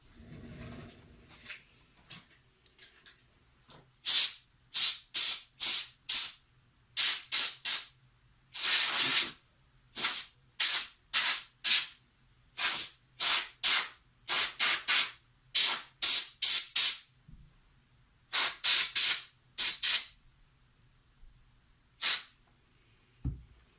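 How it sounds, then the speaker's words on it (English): A can of compressed air blasts short, sharp hissing bursts to clean a Game Boy Color. Dozens of quick sprays come in uneven clusters with brief gaps between them, loud and close, with no voices. "I'm going to use my compressed air and try to clean this off a bit"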